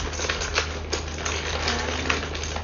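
Plastic dominoes being shuffled on a table for a colour-guessing challenge, a steady stream of clattering clicks throughout, close and fairly loud over a low hum.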